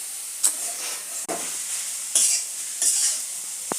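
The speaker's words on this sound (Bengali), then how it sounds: "রাত্রে খাওয়ার জন্য একটু গাজর ভাজি করছি" Carrots stir-fried in a pan for a home dinner give a steady, bright sizzle, broken by a few sharp spatula scrapes and stirs spaced a second or so apart, close and clear with no voices.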